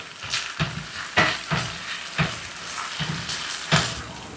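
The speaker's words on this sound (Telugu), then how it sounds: "ఇప్పుడు ఈ అల్లం వెల్లుల్లి పేస్ట్ని పచ్చివాసన పోయేంత వరకు వేపుకుందాం." Ginger garlic paste frying in a pan for a paneer biryani: a steady close sizzle with rhythmic scraping stir strokes roughly every half second, with no voices.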